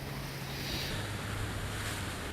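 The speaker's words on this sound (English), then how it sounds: "now I'm driving the boat" A motorboat driving along a coastline in a video game, a steady low engine drone under continuous rushing water and wind, with no voices.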